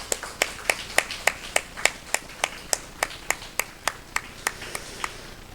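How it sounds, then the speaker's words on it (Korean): During a Korean Sunday morning church service, the congregation claps in unison, about fifteen crisp, evenly spaced claps in a steady beat, fairly close and clear over a quiet room. "우리 박수로 축복하고 위로하겠습니다"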